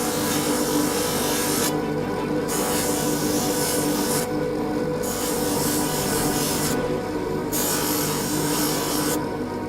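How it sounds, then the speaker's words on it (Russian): Traditional Ossetian earring being polished on a spinning wheel at higher speed, a loud continuous abrasive whir broken by brief regular dips as the piece is lifted away, with no talk. "И полируем. На второй, уже на более такой скорости."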